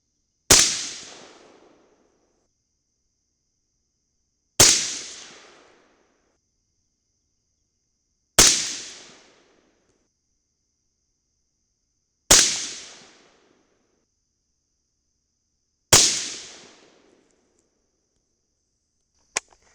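Five sharp rifle shots ring out at roughly four-second intervals, each a loud crack followed by a decaying echo, firing Hornady 55gr FMJBT loads over IMR 3031 powder, with no voices between.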